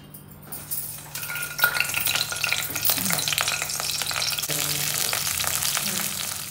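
Torn green chillies drop into hot oil and fry with a steady, fairly loud sizzle, while a spoon stirs and clinks against the pan throughout.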